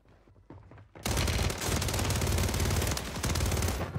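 Sustained automatic gunfire in Warzone 3 erupts after a brief quieter stretch, loud and rapid with dense overlapping bursts that continue to the end.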